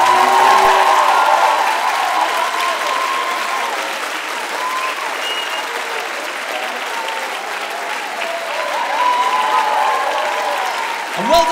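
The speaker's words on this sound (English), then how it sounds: "can we please give a huge round of applause?" A school audience in a great hall applauds at a house singing competition, long sustained clapping with some cheering and voices mixed in, loud and continuous throughout.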